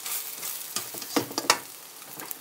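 Soft sizzle of eggs frying in a pan with several sharp scrapes and taps of a utensil stirring, no voices.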